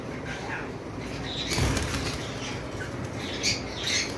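Cockatiels at a bird farm flap their wings in quick fluttering bursts, with faint chirps and a busy aviary background.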